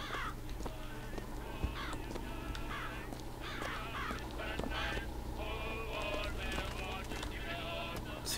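Birds in the Bioshock Infinite video game caw and chirp repeatedly over a steady low background drone, fairly close and clear, with other faint game sounds mixed in.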